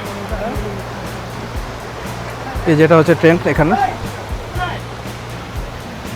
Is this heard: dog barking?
no